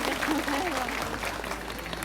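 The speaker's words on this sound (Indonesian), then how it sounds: "Tepuk tangan dulu dong buat panitianya." Audience clapping at a community religious gathering (pengajian) in Kampung Baru, Winong, Ngampel, Kendal, applauding the organizers; steady, moderately faint clapping with a voice talking over it.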